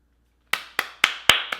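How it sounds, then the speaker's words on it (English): Five sharp hand claps close by, evenly spaced about a quarter second apart after a brief silence, each a crisp slap with a short decay. "sometimes you just want to clap."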